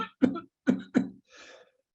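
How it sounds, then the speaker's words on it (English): Someone coughs three times in quick succession, close and fairly loud, then exhales with a breathy rasp. "Somebody's coughing."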